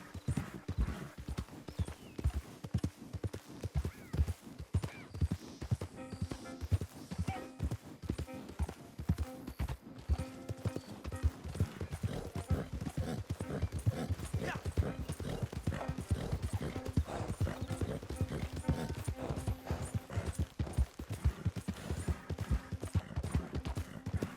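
Horse hooves clip-clopping in Red Dead Redemption 2 on PS4 Pro, a brisk steady galloping rhythm held close and loud throughout, with an occasional whinny.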